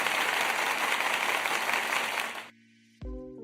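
An audience claps and cheers in a dense, loud burst that fills the room for a couple of seconds, then cuts off abruptly into near silence before a brief low thump and tonal sound follow.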